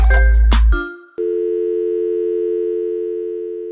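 A telephone hotline sound effect: a short burst of loud sound breaks off, then a steady electronic phone tone drones on alone, holding at an even pitch and fading slightly toward the end.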